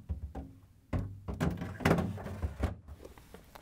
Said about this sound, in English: Then we can put the upper drawer in.